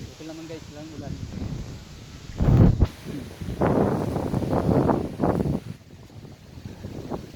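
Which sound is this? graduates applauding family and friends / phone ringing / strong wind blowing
strong wind blowing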